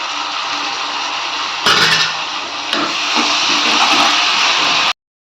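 Ginger garlic paste hits hot oil with softened onions and curry leaves while making a spicy crab gravy, giving a steady, loud, close sizzle that flares up briefly as the paste goes in, then cuts off abruptly.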